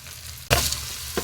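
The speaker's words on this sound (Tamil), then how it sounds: "தக்காளி நல்லா வதங்கணுங்க." Tomatoes sautéing with onions in a pan for tomato thokku: a short, close burst of sizzling flares up suddenly and then settles into a softer hiss, with a second small flare near the end.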